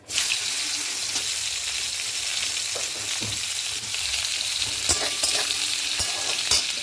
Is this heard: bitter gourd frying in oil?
yes